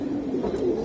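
Pigeons coo softly, close by, in a low continuous throaty murmur with no talking over it. They are silver Giribaz pigeons kept for sale in a loft.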